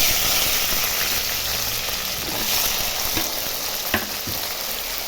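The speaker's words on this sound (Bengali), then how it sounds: "এখন এই যে আলু পেঁয়াজ সব কিছু একটু ভাজবো।" Potatoes, onions and garlic fry in oil seasoned with cumin and dried red chilli, making a loud, steady sizzle for several seconds with a few faint clinks of stirring.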